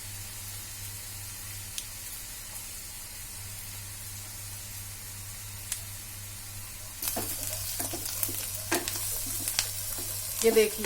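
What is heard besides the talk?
onion frying in pan for stuffed okra sabji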